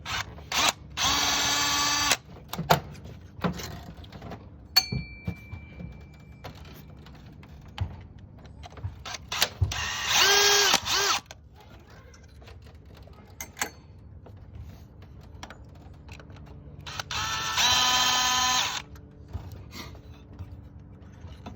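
Three loud bursts of a power drill with an H5 Allen bit whirring for a second or two each while removing deep bolts on a 2018 Nissan Armada 5.6 liter, separated by clicks, clanks and quiet handling noises.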